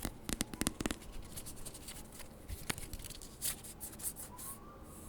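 Magic: The Gathering cards being shuffled up close, with quick crisp riffling and flicking bursts followed by softer scattered taps and slides.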